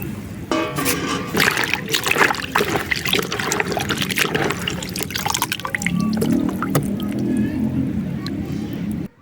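Crushed elephant apple (chalta) is rinsed in water, giving steady splashing, dripping and trickling close by, with louder sloshing toward the end.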